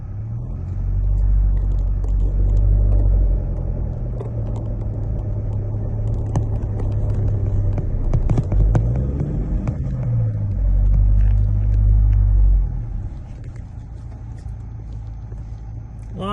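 A Tank 300 SUV with a 2.4 litre diesel engine climbs a hill, its deep low rumble steady and loud throughout, swelling and easing as the load changes, with faint cabin noise and no speech.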